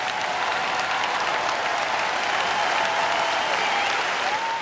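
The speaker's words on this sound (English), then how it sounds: "The applause in Manchester was warm and genuine" A hall full of delegates at the Labour Party conference in Manchester applauds after a closing speech, producing a thick, continuous roar of clapping that holds steady and loud throughout.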